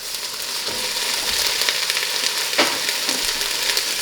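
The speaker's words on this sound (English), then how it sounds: "put in the onions and the diced green chilies first. You can hear how hot it is" Steady loud sizzling of onions and diced green chilies frying in a hot Dutch oven, crackling and hissing continuously with occasional stirring clatter.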